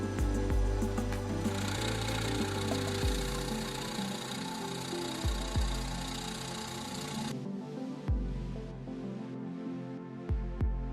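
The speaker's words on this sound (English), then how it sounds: "bring the drill press down to the workpiece" A drill press motor hums and whirs while the bit bites into a workpiece, then the motor winds down and spins quietly with a few knocks.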